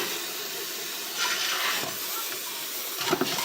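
Water spray rinsing the engine bay of a Y2K-era Camaro, a continuous hissing splatter close by that rises and falls as the stream shifts across the engine, with no talking.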